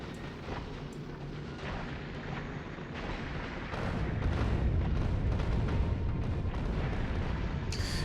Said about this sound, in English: all of these explosions and the rocket towers trashing all of this stuff